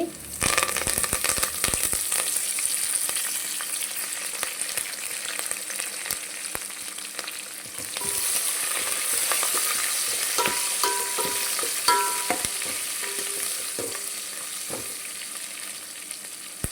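Onion, green chillies and curry leaves sizzling and crackling in hot oil for a light Tamil Nadu style sambar, with stirring scrapes and pops close by, steady throughout.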